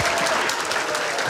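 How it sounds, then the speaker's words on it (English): Dense applause from a studio or event audience, continuous and loud for the whole moment with no voices over it. "Give them both a big round of applause."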